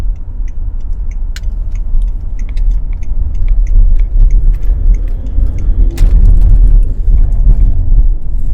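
A Range Rover L322 at motorway speed on a dual carriageway, heard from inside as a loud steady low road and engine rumble with faint ticking and rattling from the cabin and no talk.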